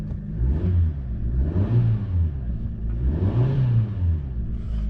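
A scrap car's engine revs up and down in slow, repeated swells at a UK recycling weigh-in, close and steady, with no talking.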